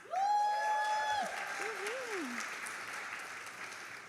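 Audience applause at a public humanities awards ceremony, steady clapping from a crowd that starts with a tonal sweep and then carries on evenly for about four seconds.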